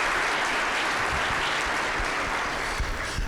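A room full of people gives a round of applause for a platinum award at an agriculture event, dense, even clapping filling the space on its own.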